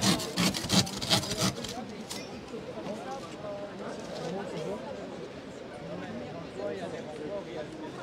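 A car windshield is sawn during a police accident rescue simulation, producing rough rhythmic rasping strokes that are loud at first and then continue under someone speaking French.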